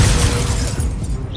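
An Incendio fire spell in the video game Hogwarts Legacy, a loud roaring whoosh of flame with a crackling, shattering edge, sustained briefly and then easing, with no talk.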